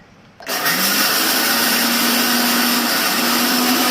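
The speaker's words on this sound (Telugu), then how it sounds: "అలాగే మెంతులు కూడా మిక్సీ పెట్టాలండి" A kitchen mixer grinder grinding fenugreek seeds kicks on after a brief quiet moment, then holds a loud, steady high-pitched whirring drone close to the microphone with no talking.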